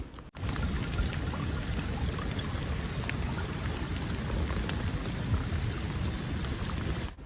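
Steady heavy rain falling around a trail shelter on the Appalachian Trail, a dense close hiss of drops with scattered patters, continuous and fairly loud throughout with no talking.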